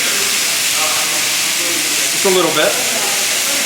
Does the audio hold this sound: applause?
no